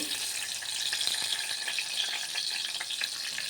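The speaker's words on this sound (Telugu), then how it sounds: "ఆయిల్ పోసిందండి వేడవుతుంది ఆయిల్ రెండు పచ్చిమిరపకాయ చీలికలండి" Slit green chilies fry in hot oil in a pan, giving a loud, continuous close-up sizzle with crackling pops throughout and no voices.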